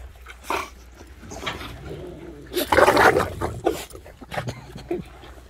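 Rottweilers growl and snarl close up while tearing at a toy, with bursts of rough growling that rise to a loud peak midway and then continue in shorter uneven snarls.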